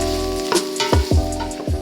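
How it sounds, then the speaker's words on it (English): Red onions and garlic frying in a preheated pot, a steady close sizzle broken by a few scraping stirs. "Cook for 2 minutes until the onions become translucent."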